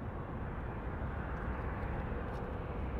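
Fixed-wing airplane passing overhead near an airport, a steady, dense broadband engine roar that holds loud and even throughout, with no one talking.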